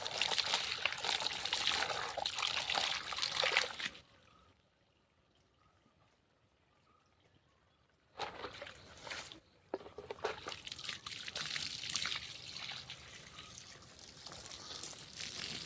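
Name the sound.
water being poured and stirred for transplanting spinach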